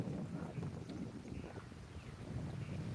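Wind sweeps across an open paddy field before rain, a faint, continuous rushing and buffeting with low rumble and no speech.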